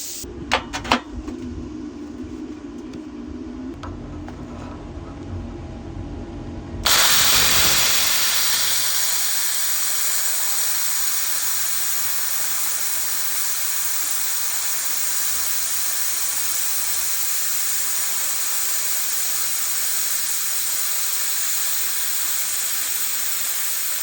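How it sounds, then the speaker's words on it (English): A YESWELDER Cut 65DS plasma cutter slicing through a solid 1-inch steel shaft: a few sharp clicks and a low hum, then a loud, steady hissing roar that starts abruptly and holds for the rest of the clip. "A 1-inch shaft and cut straight through it on the first cut."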